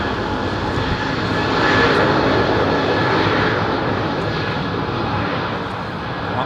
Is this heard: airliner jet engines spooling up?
yes